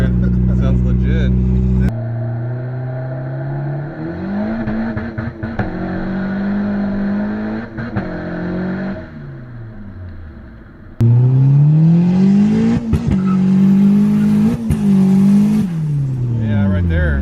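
Turbocharged Honda D16 engine revving hard with the clutch slipping under 12 pounds of boost; loud, rising and falling revs with people talking over it.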